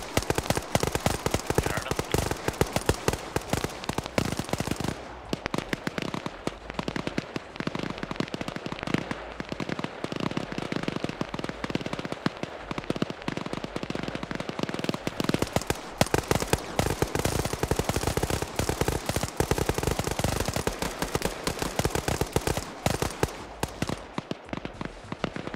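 Units firing weapons in a Starship Troopers game, dense rapid bursts of gunfire crackling nonstop like machine guns and firecrackers, loud and relentless for the whole stretch.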